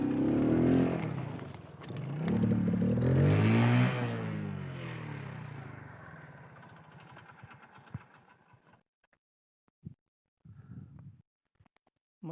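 Motorcycle struggling up a snow-covered road in Kashmir, engine revving loudly in two strained surges with shifting pitch, then fading away, leaving near silence broken by a few brief knocks and rustles.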